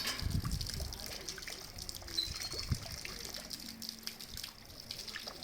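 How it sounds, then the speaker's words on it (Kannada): Spring water flowing down from the hills trickles quietly into a small natural pond near the Ganapathi temple at Samse Tea Estate, Chikmagalur, a soft, steady outdoor dribble. "ಬೆಟ್ಟ ಗುಡ್ಡಗಳಿಂದ ಈ ಒಂದು ನೀರು ಹರಿದು ಬರುತ್ತದೆ."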